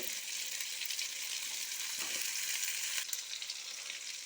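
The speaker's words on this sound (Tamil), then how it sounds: "எண்ணெய் ஊற்றி சின்ன வெங்காயம் பூண்டு இஞ்சி இந்த மூணையும் போட்டு எண்ணெயில் வணக்கிட்டுருக்குறேங்க" Small shallots, garlic and ginger sautéing in oil for a chicken dish, a soft continuous hiss of frying with a couple of brief stirring scrapes partway through.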